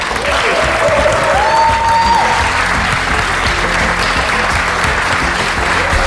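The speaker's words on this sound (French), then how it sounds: "Un tonnerre d'applaudissements pour vous." Loud, dense applause from an audience at a lookalike show fills six seconds with an even, unbroken roar of clapping, a few voices faintly rising within it.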